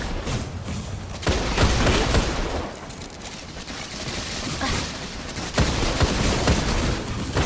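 Grenade blasts and gunfire in the Destiny video game, Eye of the Gatelord mission, form a dense, continuous roar of shots and thumping booms, with heavier bursts near the start, middle and end.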